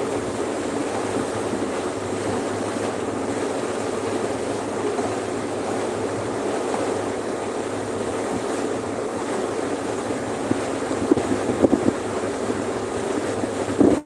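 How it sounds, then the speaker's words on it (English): Steady wind rushing and buffeting around a boat on open water, a continuous broadband roar with low engine drone beneath and a few brief knocks near the end. "It's like this wind, clouds are building."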